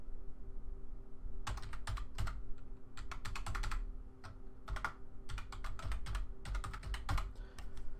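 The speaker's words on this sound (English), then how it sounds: "then you want to type in the password" Password being typed on a computer keyboard for a Grand Summoners account data transfer: quick bursts of close, crisp key clicks in uneven clusters over a steady low hum, with no talking.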